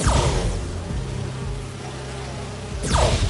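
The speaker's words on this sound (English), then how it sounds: "Do you see those little holographic bee-wolves?" Holographic bee-wolves in the Spider-Man 2 video game buzz steadily like insects, a continuous near drone with whooshing swells at the start and end and no talk.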